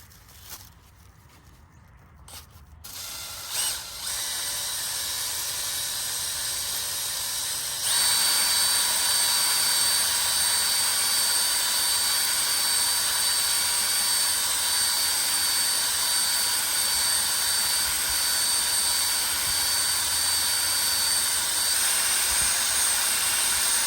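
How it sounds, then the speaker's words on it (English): An oiled cylinder hone deglazes and crosshatches the cylinder walls of a Farmall Cub tractor engine. After a few seconds of handling noise, a drill-driven whir starts and then runs steady, loud and continuous, with no voices. "And that should sufficiently deglaze the cylinder and also put some crosshatch back into the walls."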